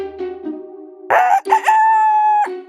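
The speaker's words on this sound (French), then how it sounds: "le coq se mit à chanter" A rooster crows loud and close, giving a full cock-a-doodle-doo with a few short clucking notes before it, with no voices around it.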